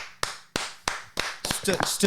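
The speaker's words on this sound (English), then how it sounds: "You get the studio clap and now the audience follows." A studio clap rings out at steady intervals, single sharp hand claps, before a crowd of audience members joins in and the clapping thickens into rhythmic group applause in a podcast studio.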